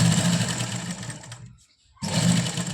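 A home sewing machine runs steadily while stitching a lined ladies' suit. Its close, loud whir cuts out briefly for a moment of near silence, then starts again at full speed.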